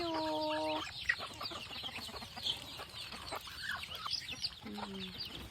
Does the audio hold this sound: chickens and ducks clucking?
yes